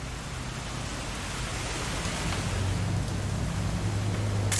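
Steady rain falling in the video game What Remains of Edith Finch, a dense, even hiss of drops holding at a constant level, with a low hum underneath and a faint crackle near the end.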